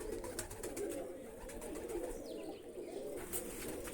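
Long-bodied pet pigeons coo in a steady, rolling murmur, close by and continuous, with no voices over them.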